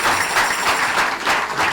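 A church congregation claps steadily together to acclaim the Lord, a dense, even wash of applause at close range lasting the whole moment, with no voices rising above it.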